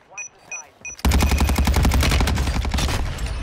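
Automatic weapon fire from an enemy in Call of Duty DMZ: after a few short electronic beeps, a loud, continuous rapid-fire burst runs on close by.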